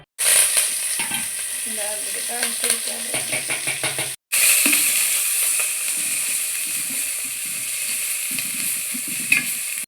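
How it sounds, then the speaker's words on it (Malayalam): Cabbage, onion and curry leaves sizzle and hiss loudly in hot oil in a pan while tempering for wheat upma, with a spatula stirring rhythmically, a brief break, then steady frying; close, no clear talk. "ഇനി ഇതിലേക്ക് ഞാൻ കുറച്ച് കറിവേപ്പില ഇട്ട് കൊടുക്കുകയാണ് അങ്ങോട്ട് താളിച്ചെടുക്കുക"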